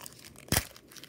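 A single quick tear as a 30-year-old football card pack from 1990 is ripped open, short and close against a quiet room.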